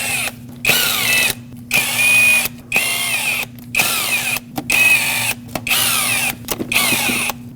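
A socket tool spins intake manifold bolts off a Lexus IS250, running in about eight loud, close whirring bursts separated by short silent gaps.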